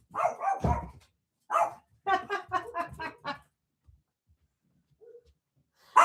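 A dog named Roxy barks indoors near a back door, with one burst followed by a rapid run of sharp barks, then quiet with a couple of faint yips and a final bark starting at the end.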